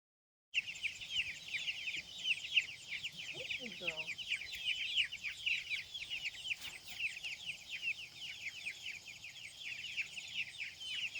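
Chickens cluck and chatter continuously on a permaculture farm, a busy flock of rapid high calls at moderate distance, with a brief low-pitched vocal sound partway through.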